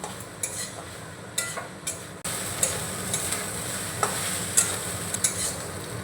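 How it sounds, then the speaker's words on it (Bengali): Ground soybean paste is stirred and sautéed with spices in a pan as filling for soya kochuri, a steady sizzle broken by sharp spoon scrapes and taps against the pan, close and with no talk. "তো এবার মিশিয়ে নেব। মিশিয়ে মশলার সঙ্গে সুন্দর করে আমি কষিয়ে নেব।"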